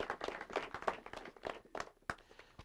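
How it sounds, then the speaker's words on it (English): A political rally crowd claps for Trump in short, scattered bursts, faint and distant, the applause thinning out unevenly over a few seconds. "How about another round of applause?"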